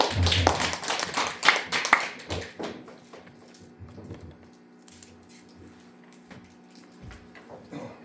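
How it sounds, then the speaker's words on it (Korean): Congregation clapping in thanks at a Korean church worship service, a burst of hand claps for about two seconds that quickly fades to a quiet room. "우리 박수로 감사합니다"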